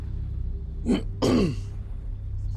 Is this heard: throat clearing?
yes